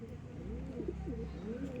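Pigeons in a loft coo at close range in low, throaty rolling phrases that overlap one another, continuous and fairly soft throughout.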